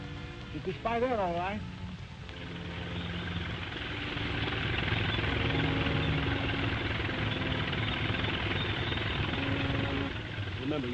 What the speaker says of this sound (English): I think I hear the jungle cruiser.